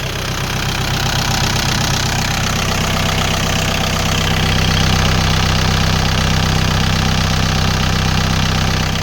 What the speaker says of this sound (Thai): เครื่องยนต์สีสูบ